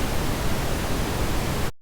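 Steady, loud broadband noise, white noise tilted by EQ to 4.5 dB per octave so it sits between pink and brown noise, hissing evenly before cutting off abruptly near the end.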